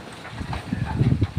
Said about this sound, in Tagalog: Grabe lakas ng hangin, oh.